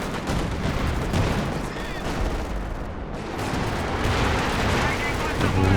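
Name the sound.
LEFH artillery fire in video game Company of Heroes 2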